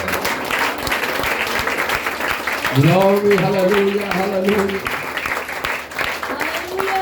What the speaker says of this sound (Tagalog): Isa pong buhay na palakpak sa ating dakilang Diyos, yung mas malakas pa na palakpak sa Panginoon